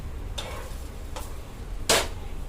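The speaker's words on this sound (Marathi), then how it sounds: "मी तेलाने हे करत आहे, शेकत आहे." A paneer paratha fries in oil on a pan, with a soft, faint background sizzle and a few sharp, brief crackles or scrapes, the last one louder, with no talking.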